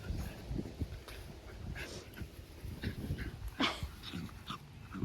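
A dog romps on a grassy hill outdoors, panting and snuffling with small whimpers, close by and fairly quiet, with no speech over it.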